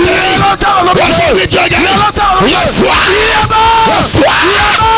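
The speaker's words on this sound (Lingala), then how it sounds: "Est-ce que tu peux acclamer très fort?" A church congregation at a French-language healing service cheers and yells loudly, a dense wall of massed voices with rising whoops and shouts continuing throughout.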